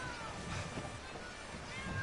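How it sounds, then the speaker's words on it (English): A cat meows faintly against a steady wash of background noise, with no voices over it. "Cat?"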